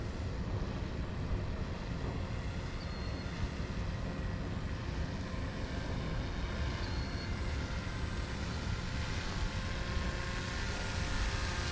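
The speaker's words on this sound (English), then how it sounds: "But coming at us for a high-speed pass." Paramotor engine on a high-speed pass, a broad, even roar of propeller and motor that stays steady and fairly distant throughout, with no voices.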